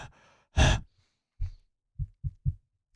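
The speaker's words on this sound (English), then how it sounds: "Probably breathing really hard too into your ears." Heavy breathing sits close into a microphone during a trading livestream: a loud sharp breath, then a softer one, then a run of three short huffs, with no speech.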